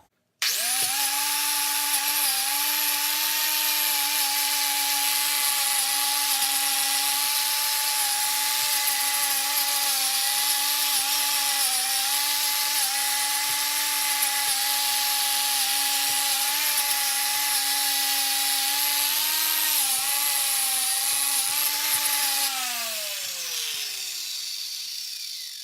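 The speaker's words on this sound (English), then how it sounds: "I'm just going to give it a little wire wheel here." A Ryobi power tool fitted with a wire wheel brush whines steadily while scouring Gravely tractor axle parts, a loud sustained tonal drone with grinding rasp that winds down at the end, with no voices.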